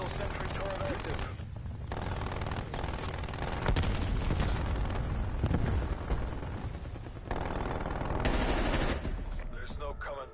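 In Call of Duty Cold War, a sentry turret fires long, loud bursts of automatic fire that are nearly continuous, along with heavy impacts and rumble, and game voices can be heard under the shooting.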